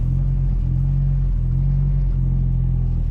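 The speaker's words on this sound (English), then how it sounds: "3 a.m. drive in a 500+ horsepower Evo." A Mitsubishi Evo X with over 500 horsepower rumbles steadily from inside the cabin during a late-night drive, its deep, loud engine drone holding constant with slight pulsing throughout.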